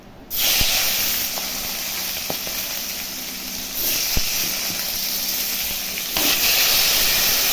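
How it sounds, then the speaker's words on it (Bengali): Bay leaf, cumin and dried chili sizzle in hot oil with a loud, steady hiss close up, broken by a few small pops and crackles. "তেজপাতা জিরা শুকনো লঙ্কা"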